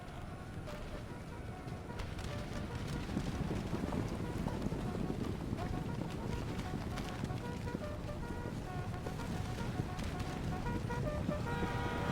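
Cavalry horses charging across a battlefield in Empire: Total War with the Darthmod mod, a dense, continuous rumble of many hooves blended with the clatter and noise of battle, loud and steady throughout.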